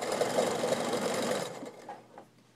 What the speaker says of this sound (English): And now I'm just going to sew down in that first row.